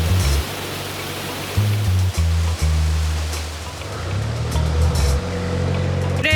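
Water flowing through open canal lock gates roars loudly and close, broadband and steady, with a low narrowboat engine rumble shifting underneath; no talking.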